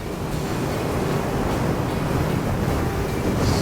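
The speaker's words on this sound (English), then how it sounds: "Really strong wind going this way" Strong wind buffets the microphone outdoors near swampy ground on a ride, a loud continuous roar with no letup and no talking.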